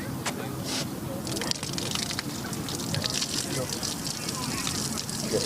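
Water runs and splashes steadily from a sensor-activated drinking fountain spout outdoors on Obolonskyi Island, close by, with people talking over it the whole time.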